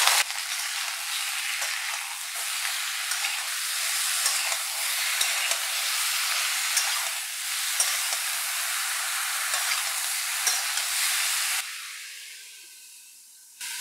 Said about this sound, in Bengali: নুনটা দিয়ে একটু নাড়াচাড়া করে নেব।